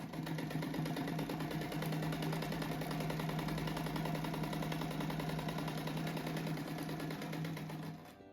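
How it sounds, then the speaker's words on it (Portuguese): A sewing machine runs in one steady, continuous stretch while stitching two tulip-shaped rug pieces together, its whirring hum holding near and even until it slows at the very end. "agora eu vou costurar esses dois aqui junto"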